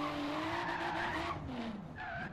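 Toyota Supra drift car in Forza Horizon 3 sliding with a sustained, loud tire screech over a revving engine, the squeal wavering in pitch and briefly dipping before resuming near the end.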